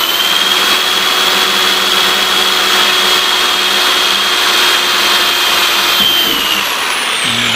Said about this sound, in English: I'm going to drill a hole.